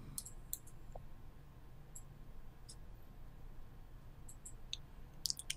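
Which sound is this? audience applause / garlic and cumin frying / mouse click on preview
mouse click on preview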